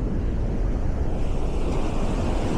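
Ocean waves roll onto a beach in Thailand as a dense, steady low roar of surf. Wind rumbles against the microphone throughout, close and loud, with no voices.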